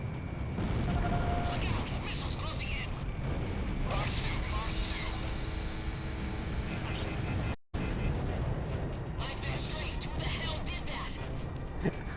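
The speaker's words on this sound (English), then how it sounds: "entirely demolished by not only my squadrons, but also offshore bombardment and carpet bombing" Offshore bombardment and carpet bombing in the video game Ace Combat 6, a continuous loud rumble of blasts and roaring noise with a brief dropout partway through.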